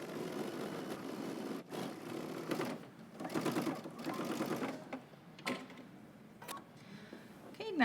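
A home sewing machine stitches a waist facing on a pair of pants in steady whirring bursts that stop and start, with short pauses between runs, close and fairly loud.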